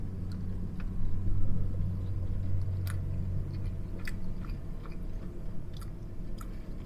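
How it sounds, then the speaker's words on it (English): Close, soft chewing of a meatball from a pasta dinner aboard an Amtrak Empire Builder train, with faint wet crunches and clicks over a steady low rumble of the moving train. "let's see how the pasta and meatballs tastes"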